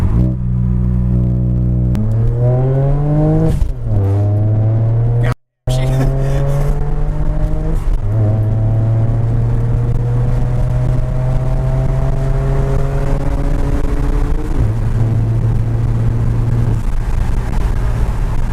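A turbocharged Ford Fox-body car with a Forge blow-off valve revs hard from inside the cabin, its engine pitch climbing again and again through several pulls, with a brief cut in the middle.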